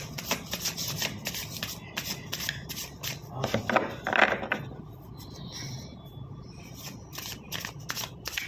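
Tarot cards being shuffled and drawn by hand, with crisp riffling bursts and soft flicks and taps that come in uneven clusters, close and fairly quiet, with faint talk in the background.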